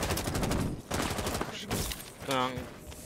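Rapid video-game gunfire rattles in dense, repeated volleys at moderate volume, with voices talking over the shots.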